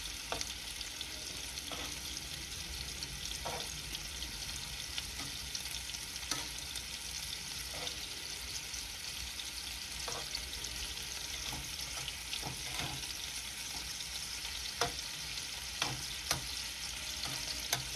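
Chicken pieces for butter chicken frying in a pan, a steady dense sizzle with occasional stirring clicks and pops, close and continuous without talk.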